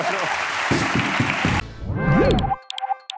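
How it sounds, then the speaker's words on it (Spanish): A television studio audience claps in a short, dense burst of applause that abruptly gives way to music with a voice over it. "un aplauso para Cayetana Guillén"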